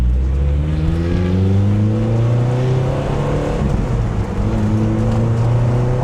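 Loud, steady engine drone from a 2.5L-swapped Mazda NC Miata on track at Grattan Raceway, holding a sustained rev with harmonics shifting slightly as the engine climbs and settles, close and continuous throughout.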